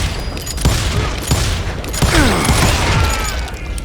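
Gunfire sounds in the Western shooter game Call of Juarez: Gunslinger, with a rapid run of loud shots, booms and mechanical clicks over a busy game soundscape and no speech.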